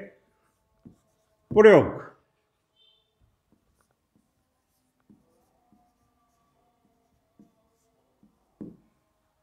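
Handwriting during a chemistry lesson on Dalton's law of partial pressures: faint, sparse strokes and taps in a quiet room, with one short spoken word early on.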